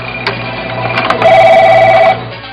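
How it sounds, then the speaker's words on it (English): Telephones ringing in a busy office, sharp electronic rings near and loud, one trill overlapping another in quick succession before cutting off, over a low steady hum. "our phones are ringing off the hook"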